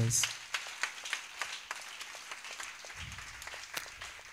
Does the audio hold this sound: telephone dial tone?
no